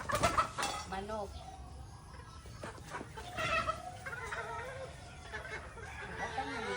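Backyard chickens in a rural provincial yard clucking close by in a busy, overlapping chorus, with the occasional higher squawk, carrying on steadily.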